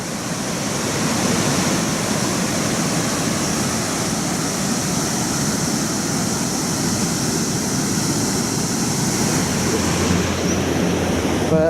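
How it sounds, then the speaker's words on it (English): Canyon Creek rushes near Ouray along the Perimeter Trail, a loud, dense, continuous roar of churning water heard close by with no voices. "So this is Canyon Creek."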